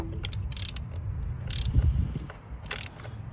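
A wrench works loose a spark plug on a BMW 540i's B58 engine, giving a few ratcheting, clicking bursts over a low mechanical rumble, close and fairly loud with no talking.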